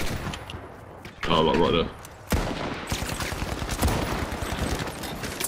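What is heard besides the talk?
gunfire in The Finals video game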